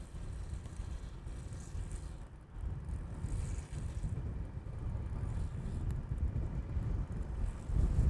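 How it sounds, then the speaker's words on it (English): Wind buffeting an outdoor microphone at Honolulu airport, a steady loud low rumble with gusty swells that holds for the whole stretch, no voices. "Bit of wind."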